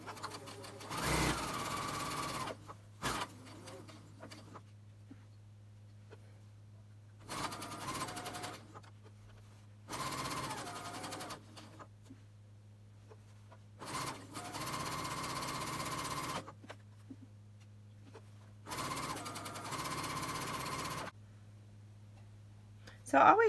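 A serger sewing machine stitching the hem of a pair of shorts, running in four distinct bursts of a few seconds each, separated by pauses in which someone talks over a steady low hum.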